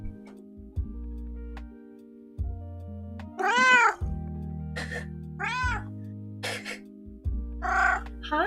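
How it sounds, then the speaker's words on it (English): Angry cat giving loud, drawn-out meows, several in a row and close by, over a steady background of electronic tones and music. "She is just a full angry meow."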